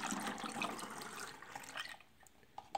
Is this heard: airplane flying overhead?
no